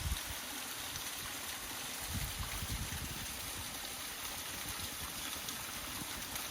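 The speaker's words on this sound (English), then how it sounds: "And check out this waterfall." A waterfall in Shenandoah National Park pours steadily, a soft, even rush of falling water heard from a moderate distance with no talking.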